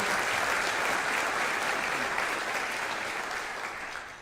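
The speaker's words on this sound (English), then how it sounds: "ask to give them a round of applause" Steady audience applause at a mayoral speech, dense and even clapping that holds for several seconds before gradually tapering off at the end.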